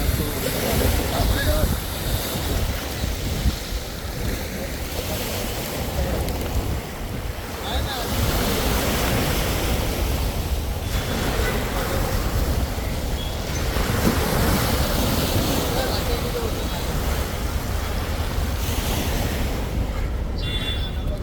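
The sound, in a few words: sea waves at the Gateway of India, Mumbai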